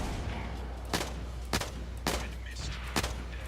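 Combat rifle gunfire in the video game Blacklight Retribution: five sharp, evenly spaced single shots about half a second apart, loud and close over a steady low game background hum, with no talking.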